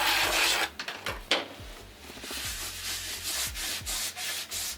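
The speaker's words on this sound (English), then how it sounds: "let me scrape all the excess off" A scraper drags across peel-and-stick vinyl floor tiles, clearing excess grout in a mobile home floor job, making a run of rough rasping strokes, close and fairly loud, with short pauses between passes.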